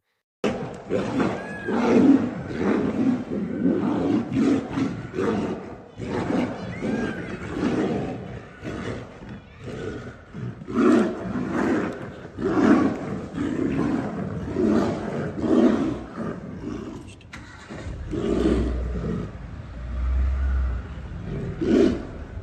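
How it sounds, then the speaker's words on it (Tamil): Two tigers fight aggressively at Kanha Tiger Reserve in Madhya Pradesh, filmed from a safari, with repeated loud, rough roars and snarls in rolling bursts throughout and a low vehicle rumble beneath. "இதில் இரண்டு புலிகள் மிகவும் ஆக்ரோசமாக சண்டை போடுகின்றன"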